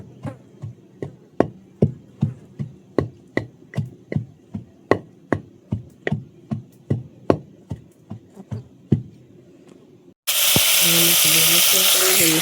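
Cowpea (choli) curry stirred in a hot pan: steady, evenly spaced clicking strokes for about ten seconds, then a sudden loud, continuous hissing sizzle.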